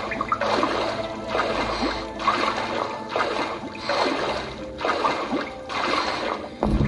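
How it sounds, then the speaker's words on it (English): Swimming strokes in an audio video game: rhythmic splashing water surges come in about six regular pulses, each a few seconds apart, fairly loud and close. "We are now swimming to the left."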